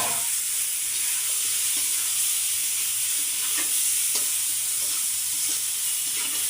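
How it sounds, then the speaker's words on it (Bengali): Steady hissing sizzle of singi (stinging catfish) frying in a pan, with a few soft clicks and scrapes of stirring throughout, no voices. "মাছগুলো দিয়ে দিলাম মাছটা আগে একটু কষিয়ে নিতে হবে"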